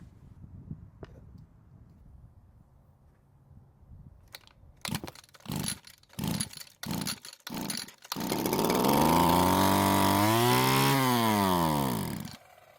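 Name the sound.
Stihl FS 81 trimmer engine starting and running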